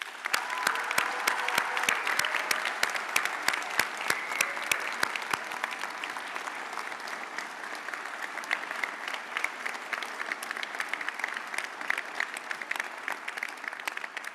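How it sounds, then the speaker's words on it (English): A graduation convocation audience applauds steadily, dense clapping at full strength for a long stretch, easing slightly toward the end. "please join me in applauding those of you standing"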